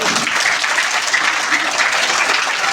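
Loud, dense applause from a large crowd at a school annual function and award ceremony in India, sustained clapping throughout without a break.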